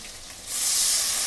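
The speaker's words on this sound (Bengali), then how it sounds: "দিয়ে দেবো খানিকটা জল।" Water poured into a pan of lightly fried green plantain sets off a loud hiss and sizzle that surges halfway through and holds steady to the end, with no voices.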